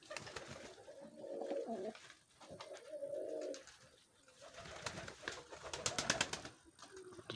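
Homing pigeons cooing in a loft, several soft throaty coos rising and falling in repeated phrases, fairly close but quiet, with some faint flutters and scratchy movement between calls.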